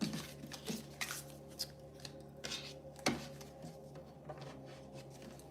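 A deck of tarot cards is shuffled by hand, giving quiet repeated riffles and soft flicks that come in uneven bursts over several seconds, close up and faint with no talking.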